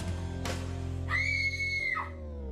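A single high, sustained scream rings out for about a second over a steady background hum, fairly loud and close.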